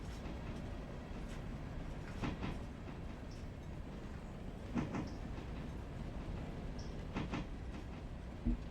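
Train rolling along rails in the Railroader simulation game: a steady low rumble with faint rhythmic clicks and a few brief metallic ticks, continuous throughout with no talking.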